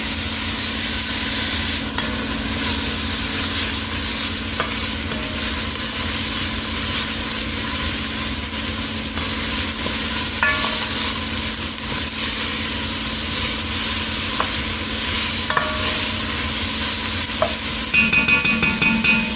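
Garlic cooking in a pan for tomato-free spaghetti and meatballs, a long steady sizzle with an even low hum beneath and occasional faint utensil taps, ending in a brief clatter.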